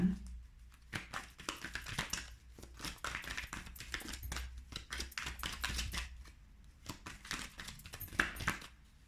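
Tarot cards being shuffled and cut by hand, with a rapid run of crisp, close papery flicks and taps that rise and fall in bursts, with no talking over them.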